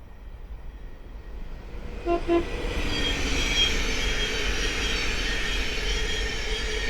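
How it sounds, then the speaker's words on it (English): A Thameslink Class 700 electric train passes through Great Wymondley on the East Coast Main Line, giving a short double horn blast before its rushing, roaring approach builds and holds steady at close range. "we'll find a Thameslink 700 passing through"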